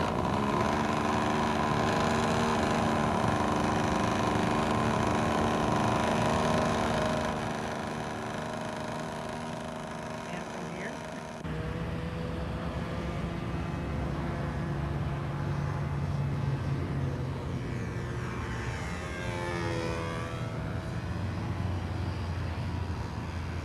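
A model airplane engine, the Thingamabob tethered to a pole in a parking lot, runs steadily with a strong buzzing drone, dipping slightly midway and then holding at a constant loud pitch.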